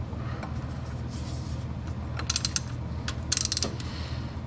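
A ratchet on a 3-inch extension clicks in short bursts while working on the alternator of a 1997 Saab 900 SE Turbo, close up and moderately loud, with mechanical clatter between strokes.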